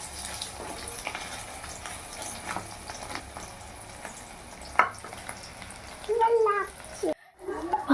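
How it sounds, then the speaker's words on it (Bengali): Rohu fish roe fritters fry in hot oil, a steady soft sizzle with occasional stirring and turning scrapes, and a short louder burst near the end. "মা উল্টে পাল্টে ভালো করে ভেজে নিচ্ছে"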